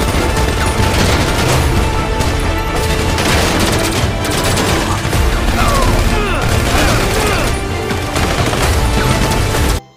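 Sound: toy gun shooting sound effects

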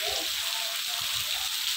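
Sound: heavy rain falling

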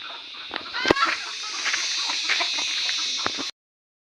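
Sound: free-range chickens clucking

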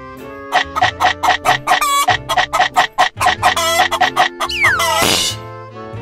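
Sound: chicken clucking and rooster crowing

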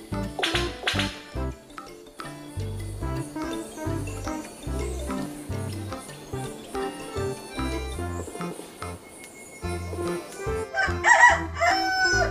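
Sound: bird calls in the video game Jurassic World Evolution 2

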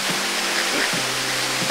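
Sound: waterfall

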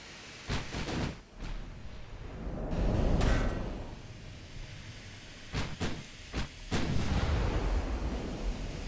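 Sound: naval artillery firing shells in Ultimate Admiral: Dreadnoughts video game

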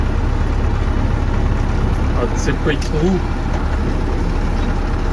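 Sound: MTZ tractor engine running while plowing

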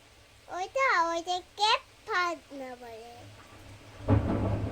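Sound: thunder during a storm

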